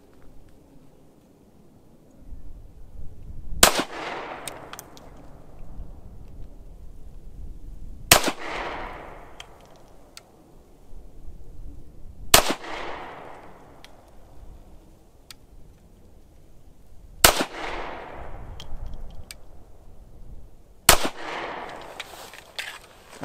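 A Ruger-57 handgun fired at an outdoor target: five loud, sharp shots spaced slowly about four to five seconds apart, each cracking near the listener and ringing off before the next.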